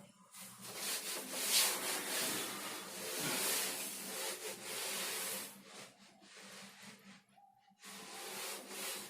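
Chalk is rubbed off a classroom board during a physics lesson, a series of close, scratchy rubbing strokes in uneven bursts with brief pauses between them.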